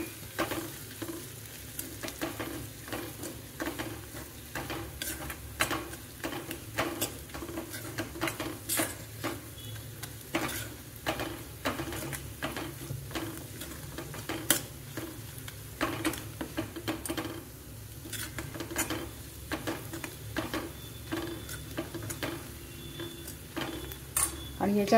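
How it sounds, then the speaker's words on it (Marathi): Spices including coriander powder are stir-fried in a pan for mushroom masala bhaji: steady sizzling under a long run of quick, rhythmic spoon scrapes and taps against the pan, close by and continuous. "पुन्हा एकदा आपण हे मसाले परतवून घेणार आहे."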